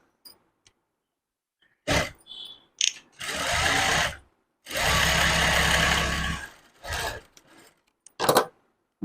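A sewing machine stitches a front-open prince-cut blouse in several bursts of steady whirring, the longest two lasting a couple of seconds each, with short pauses and brief handling sounds between runs.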